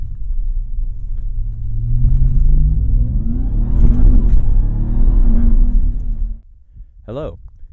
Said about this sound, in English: the truck is so loud, especially when you're like out here in nature. It just echoes for miles and miles.